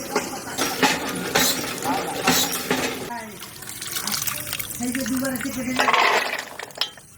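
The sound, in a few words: washing vegetables with water from a hand pump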